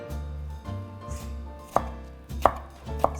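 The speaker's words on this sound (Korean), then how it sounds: "이렇게 무채를 써시면 돼요" A knife julienning radish into thin 3 mm strips on a cutting board, with sharp distinct chops landing a few at a time over a low background hum, close and clear, no talk.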